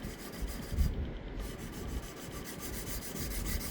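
Sandpaper on a stick rubbing back and forth over a scrub plane blade being sharpened, a steady close rasping scrape that runs continuously without talk.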